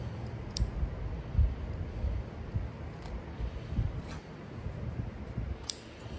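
Scissors snip through fabric for a valley table and rails piece, a few sharp clicks spaced across the clip over a steady low rumble of handling.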